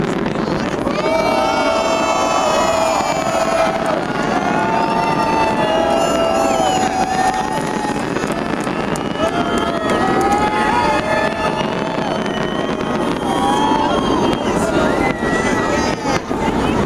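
New Year's Eve fireworks burst above the Las Vegas Strip from atop Planet Hollywood and the Cosmopolitan, a continuous rumble of distant pops and crackles mixed with crowd noise, wind and people talking nearby.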